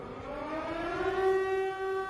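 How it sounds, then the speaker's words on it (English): A civil defense-style siren wails steadily in a video game scene, a sustained rising tone that holds and swells slightly, heard alone without talk. "The sirens?"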